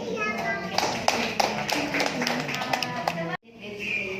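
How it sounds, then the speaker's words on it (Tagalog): Guests at a pregnancy party clap together in a lively, steady patter, close by, mixed with children's voices before stopping abruptly near the end. "Wow, palakpak"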